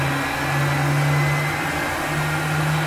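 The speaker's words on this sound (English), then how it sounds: "you see engine one is starting up" The number one engine of an A-10C Thunderbolt II starts up in Microsoft Flight Simulator, with a steady droning hum and a broad whooshing roar that holds fairly loud and even.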